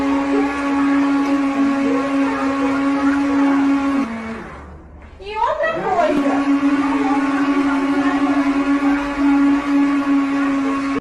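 A kitchen mixer grinder whirs loud and steady with a strong whining tone, briefly dropping and spinning back up midway, then running on continuously.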